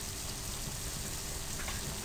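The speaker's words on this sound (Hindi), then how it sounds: "आप तकरीबन इसको 5 मिनट के लिए हल्की आंच पे फ्राई करें अच्छी तरह से" Beef masala pieces frying on low heat in a pan, giving a steady, even sizzle that holds without a break, soft and close.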